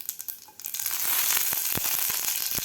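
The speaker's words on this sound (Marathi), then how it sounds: "तेल आपलं गरम झालेलं आहे तर यामध्ये घालायची आपल्याला मोहरी, अर्धा चमचा मोहरी." Mustard seeds, half a spoonful, spluttering in hot oil over a medium flame at the start of a tomato chutney. Quiet at first, then a dense, loud crackling sizzle rises and carries on steadily, dotted with sharp close pops.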